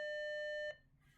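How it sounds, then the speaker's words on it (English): Electronic buzzer driven by a transistor circuit gives one steady, piercing tone that holds for most of a second and then cuts off abruptly, leaving faint background noise. "So that's how you wire up a transistor and a buzzer."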